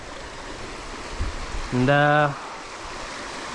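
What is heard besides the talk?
running water flowing in a stream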